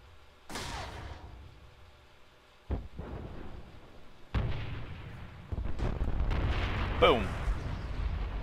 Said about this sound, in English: You've taken damage from the nearby explosion.